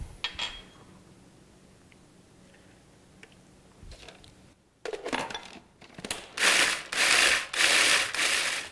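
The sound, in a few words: food processor crushing chocolate wafers with butter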